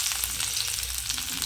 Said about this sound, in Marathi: कांदा मस्तपैकी भाजून घेऊ.